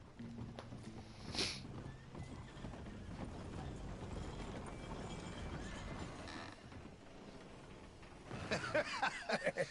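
Horse hooves clip-clopping in the video game Red Dead Redemption 2, a steady rhythmic stream of footfalls over background game ambience, louder and denser toward the end.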